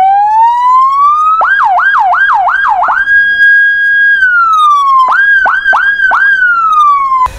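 A 103 emergency ambulance siren sounds at a public beach, loud and close: a rising wail that settles into a steady tone, broken by bursts of rapid yelping cycles, with no voices.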